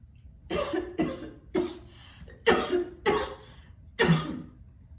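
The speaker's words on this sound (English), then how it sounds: "I promise I don't cough like that in public." Six sharp, hacking coughs in quick succession, loud and close, with short pauses between each burst.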